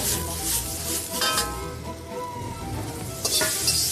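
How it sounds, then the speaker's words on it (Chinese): Strips of pumpkin, onion and tomato stir-fry in rendered sausage fat over medium-low heat, giving a steady close sizzle with scraping stirs and occasional louder crackles. "腊肠先下锅，用中小火煸出油， 用一些腊肠的油去炒南瓜、"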